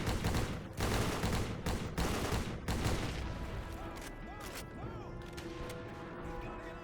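Rapid bursts of gunfire crack and rattle while soldiers take out distant machine gunners in a war video game. A dense opening volley thins into scattered shots over a rumbling battle background.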